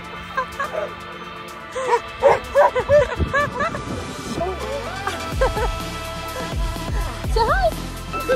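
Sled dogs yip, bark and howl in an excited chorus before a ride, their high cries overlapping and clustering in bursts, with some low rumbling and knocking underneath.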